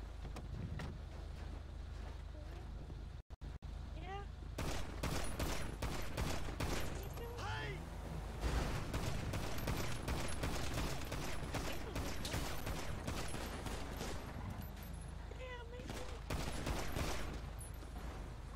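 Gunfire during a roleplay shootout in an online game, a dense continuous barrage of rapid shots over wind-like noise for most of the stretch, with only a short gap early on.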